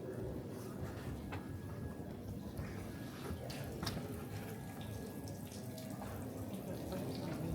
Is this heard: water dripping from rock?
yes